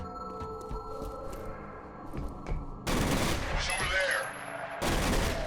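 Gunfire in the shooter game F.E.A.R., with scattered shots and then two loud sustained bursts of rapid automatic fire that cut in abruptly against a busy background.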